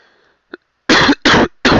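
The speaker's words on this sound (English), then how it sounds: "Excuse me for coughing in your guys' ear there." Three loud, close coughs in quick succession after a brief throat sound, from a person commenting over a WWE '15 wrestling game session.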